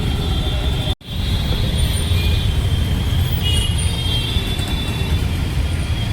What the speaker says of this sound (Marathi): त्याच्यामध्ये हे असलं ट्रॅफिक आहे